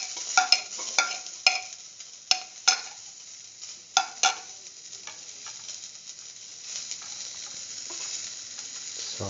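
Onion pieces sautéing in a little hot oil in a pan, a steady soft sizzle broken by several sharp scrapes and knocks of a stirring utensil early on, then settling into quieter continuous frying.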